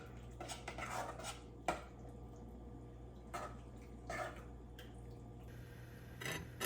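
Hot dog chili is stirred in a pot, with a low continuous background hum and a few sharp clinks and scrapes of a utensil against the cookware scattered throughout, close by and with no voices.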